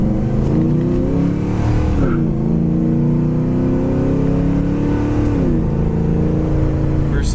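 A 1972 Buick Skylark accelerates through the gears, its engine note climbing in pitch, dropping at each shift around two and five seconds, then rising again, loud and close with a faint voice beneath.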